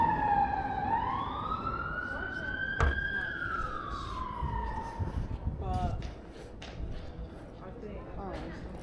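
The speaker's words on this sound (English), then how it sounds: "siren after siren" Emergency sirens wail and sweep up and down in pitch at Notting Hill Carnival, London, loud and continuous, layered over traffic noise with a voice speaking underneath.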